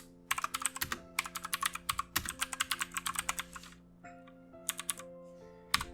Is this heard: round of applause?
no